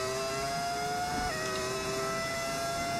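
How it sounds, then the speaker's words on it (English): Continuous high-pitched whine of a V10 race car engine in F1 25, loud and steady with a brief pitch dip, under dense engine and track noise. "Is that V10 engine?"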